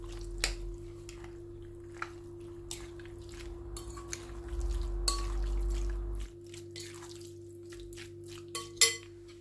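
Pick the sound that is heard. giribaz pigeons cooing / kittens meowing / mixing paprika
mixing paprika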